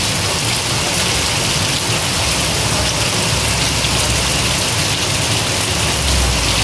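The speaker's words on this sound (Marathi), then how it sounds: "पाऊस खूपच जोराचा पडतोय" Heavy monsoon rain coming down hard in Degloor, a thick, constant roar of drops on wet surfaces that stays loud and even throughout, with a faint low rumble beneath and no speech.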